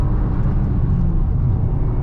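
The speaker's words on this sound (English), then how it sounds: "You may have noticed just then I hit the red line" A 2022 Subaru WRX engine hums steadily near the red line, a continuous droning roar heard from inside the car with no distinct rise or break.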